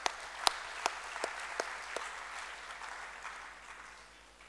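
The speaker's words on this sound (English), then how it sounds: "Let us all welcome her with a clapping of hands" Audience clapping to welcome a speaker at a university hackathon event. Fairly soft, with a few distinct sharp claps at the start settling into a steady patter that fades toward the end.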